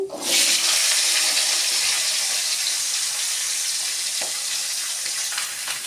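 Vegetables for Bengali panchmishali hitting hot tempering oil, a loud sudden burst of sizzling that settles into a steady, dense hiss with a few faint clinks, no voices.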